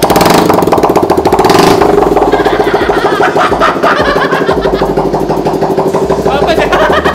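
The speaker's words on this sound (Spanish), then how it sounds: "¿nunca les ha dado curiosidad cómo suena una moto sin mofle?" A motorcycle engine, a TVS Apache 200 or KTM 200 Duke, runs raw and loud with no muffler, a fast rattling pulse and a rough revving burst early on.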